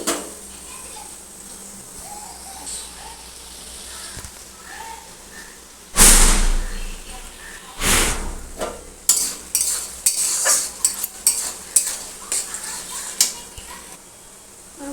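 Two large onions fry in a pan for ghugni, a steady sizzle with a loud burst partway through, then repeated scraping stir strokes and utensil clatter, close, with no talk.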